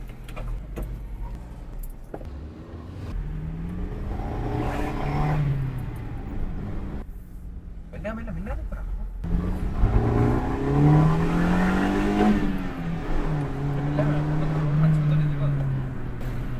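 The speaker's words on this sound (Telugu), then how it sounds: "గైస్ ఇప్పుడైతే మనం సెకండ్ గేర్లో ఉన్నాము. అండ్ మనం సెకండ్ గేర్లో ఎంతవరకు వెళ్తుంది మనం వెహికల్ అని చూద్దాము." A 23-year-old Honda City Type 2 accelerating in second gear, engine note rising and falling under someone talking inside the car, revving harder toward the end.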